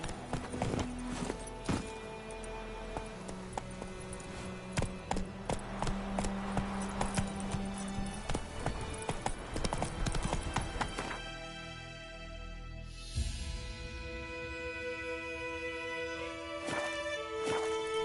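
Horse hooves clip-clop at a steady gait in The Witcher 3 video game, mixed under game music and ambience, moderately loud throughout.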